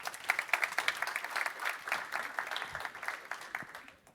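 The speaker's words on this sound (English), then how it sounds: "Give him a warm applause," Warm applause from a conference audience welcoming a speaker onto the stage, a steady patter of many hands clapping that fades out toward the end.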